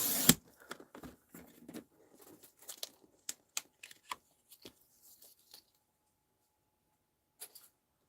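Card stock for Easter cards is cut with a paper trimmer or scissors, a loud initial snap followed by a scattered series of small crisp clicks, slides and rustles that thin out into near silence, no speech.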